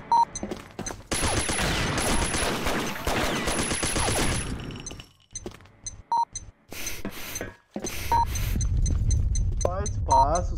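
Suppressed AK rifle fire in Combat Arms on a snow map, dense stretches of muffled rapid shots broken by game beeps and tones, with a voice talking over parts of it.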